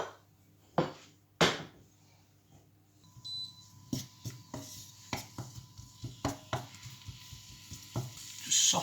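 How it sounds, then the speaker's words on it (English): Garlic and chilies cooking in a little oil for sticky pork and noodles, soft sizzling under a series of sharp utensil taps and clinks against the pan, fairly close. "We'll start off by cooking off the garlic and the chilies in a spot of oil."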